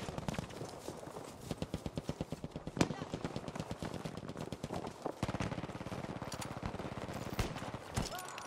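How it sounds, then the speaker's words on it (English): Rapid bursts of automatic gunfire in Battlefield V, aimed at a bunker: dense repeated cracks with a few louder single shots standing out, under intermittent talk. "Now I'm gonna shoot at people."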